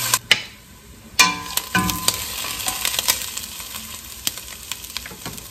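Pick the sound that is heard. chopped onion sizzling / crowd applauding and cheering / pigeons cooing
chopped onion sizzling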